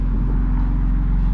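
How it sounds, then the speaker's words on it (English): A 2020 BMW X3 M Competition idling with its exhaust running, a steady low, droning rumble with a faint pulsing beat, heard close and continuous without speech. "You can see you can kind of hear the exhaust in the background."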